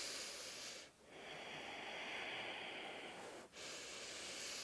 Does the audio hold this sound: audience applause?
no